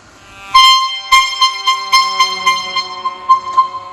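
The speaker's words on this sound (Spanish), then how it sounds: "Así sonaba fuerte la bocina de un colectivo Mercedes-Benz desvencijado que avanza lento por las calles del centro" An old, battered Mercedes-Benz city bus sounds its horn, a loud steady tone that starts abruptly and is then tapped out in a rapid series of short pulsing blasts, with no voices around it.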